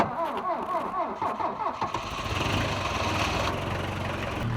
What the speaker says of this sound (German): Wir lassen noch kurz den Motor warm werden